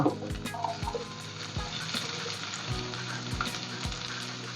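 Curry leaves and about ten small onions crackle and sizzle in hot oil while chicken kondattam is being made, a busy close sputter broken by a few sharp clinks of a spoon against the pan, with no talking.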